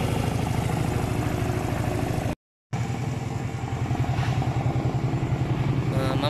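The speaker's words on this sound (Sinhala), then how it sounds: "ඊට පස්සේ දැන් තමයි බයික් එක ස්ටාර්ට් කරේ" A rebuilt Honda CM125 motorcycle engine runs with a steady, throbbing idle close by, broken by a brief silent gap, then continues evenly to the end.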